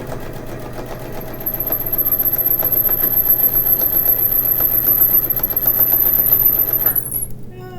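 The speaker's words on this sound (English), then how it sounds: "As I'm getting more confident with my foot pedal, I guess I'm sewing faster." A home sewing machine run by foot pedal stitches a homemade blanket, humming steadily and fairly loud with a fast needle chatter that stops abruptly near the end.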